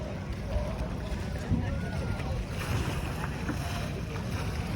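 A newly arrived fishing boat on an island shore carries a steady outdoor rumble of engine, water and wind, heard under someone speaking throughout.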